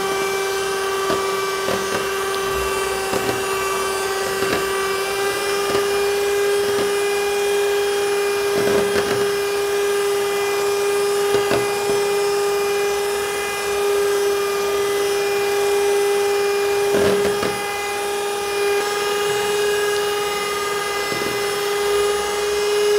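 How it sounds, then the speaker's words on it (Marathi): An electric beater whips cream at low speed, giving a steady motor whine with a constant pitch that runs the whole time, joined by faint rhythmic clicks and knocks from the beaters against the bowl, close up and without speech. "आपल्याला येथे 5 मिनिटे लो स्पीडवरती क्रीम फेटून घ्यायची आहे आणि नंतर स्पीड वाढवून आपल्याला फेटून घ्यायची आहे"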